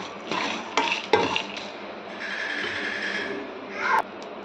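Red chilies, green chilies, urad dal, chana dal and curry leaves dry-roasting for coconut chutney, a soft steady rustle with a few sharp metallic scrapes and knocks of a spoon in the pan.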